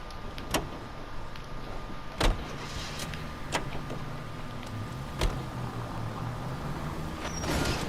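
Car driving in the video game L.A. Noire: a steady engine and road rumble runs throughout, with a faint whine and several sharp clicks and knocks spaced across it, louder at the end.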